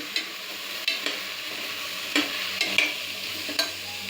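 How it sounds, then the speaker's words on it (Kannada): Okra frying in a pan, a continuous close sizzle broken by regular scraping stirs and light clinks of a spatula. "ಇಲ್ಲಿ ಆಲ್ರೆಡಿ ಬೆಂಡೆಕಾಯಿ ಫ್ರೈ ಮಾಡ್ತಾ ಇದ್ದೀನಿ"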